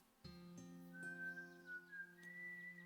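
A clear whistled melody of a few sliding, sustained notes in the video game Broken Sword 5, solo and fairly close, with light clanking at the start.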